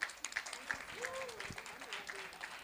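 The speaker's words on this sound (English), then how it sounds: "Big round of applause for Karan and Mira." Applause at a book launch, a fairly faint patter of clapping from the audience with scattered sharper claps, while a voice talks over it.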